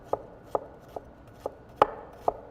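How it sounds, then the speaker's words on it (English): Six crisp knife chops land on a cutting board at an uneven, steady pace, each a sharp close tap through vegetables, with no talking. "his knife started to sound like it was going through an onion"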